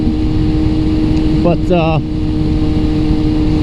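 A 1999 Yamaha R6 sport motorcycle engine runs with a steady, loud drone throughout, with a brief spoken word over it midway.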